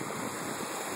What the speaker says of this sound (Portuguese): A água tá vindo da montanha